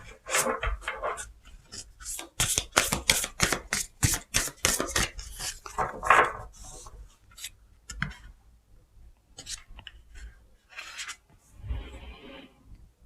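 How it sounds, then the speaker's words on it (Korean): Oracle cards shuffled and drawn by hand: a close, rapid run of crisp riffling flicks and slaps, then scattered softer slides and taps as cards are pulled, with no voice. "임수일간 분들을 위한 모놀로지 카드에서 조언 카드 좀 뽑아보도록 하겠습니다"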